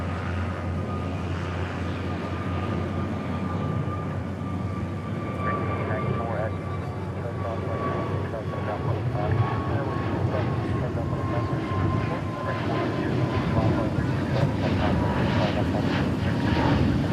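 A Frontier Airlines airliner lifts off at night from Dallas Fort Worth airport, its jet engines giving a steady broad roar that swells toward the end, with a voice talking over it.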